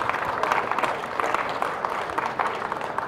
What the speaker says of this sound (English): join me in a round of applause for Janome of America